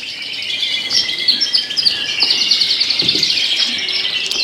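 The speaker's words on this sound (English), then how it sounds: "In this cage we have a brown siskin." A small brown siskin chirps and twitters in its cage in rapid, high trills, close and fairly loud, with quick repeated notes running continuously.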